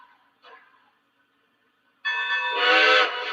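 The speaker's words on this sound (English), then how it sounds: "If you hold the aux button, it does the automatic whistle stuff." Automatic whistle from a 2015-built model train engine triggered by holding the aux button, a sustained harmonic whistle blast starting about two seconds in, loud and close, after a faint brief chirp and near silence.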